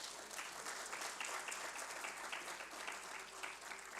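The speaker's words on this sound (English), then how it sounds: "So a big clap for all of them." A conference hall audience applauds the organizing team members. The faint, steady patter of many hands continues for about four seconds and sounds distant and low in level.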